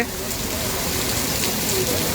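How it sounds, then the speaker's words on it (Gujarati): A steady, dense roar of heavy unseasonal rain pours down continuously on a road in Morbi city under dark clouds, loud and close, with no pauses. "જ્યાં તમે અત્યારે ધોધમાર વરસાદ જોઈ રહ્યા છો"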